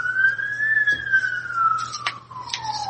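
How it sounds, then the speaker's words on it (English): An ambulance siren sweeps past, its steady wailing tone sliding gradually downward in pitch as the vehicle moves by, loud and clear over a low background hum with no talk. "I just let the ambulance go by."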